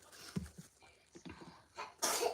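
A single sharp sneeze bursts out near the end, after a stretch of quiet breathy sounds and small vocal noises.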